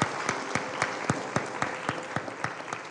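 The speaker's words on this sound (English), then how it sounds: "Can we give them hands of applause" Applause from a conference audience at the opening of an e-learning event, a steady wash of clapping with sharper individual claps standing out throughout.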